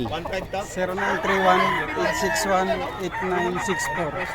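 Several roosters crow one after another, their calls overlapping with clucking nearby, loud and close in a busy farmyard.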